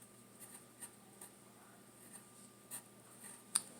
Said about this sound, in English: So over here, I'm going to write that the Snickers is hard.